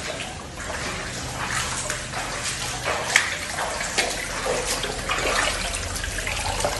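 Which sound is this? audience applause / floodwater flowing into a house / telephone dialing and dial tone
floodwater flowing into a house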